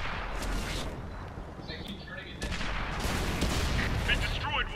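Tank cannon fire and shell explosions in the World of Tanks video game on PS4, a steady roar of booming gunfire and blasts with a sharp burst near the middle, while a player talks over the top.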